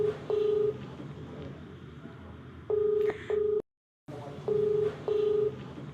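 A telephone number is dialed for a call as a series of evenly pitched keypad tones in short pairs, with a brief gap of silence partway through, set against faint background noise.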